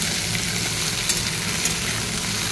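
Okra and onion fry in a pan with a loud, steady, close sizzle and faint stirring, continuous throughout.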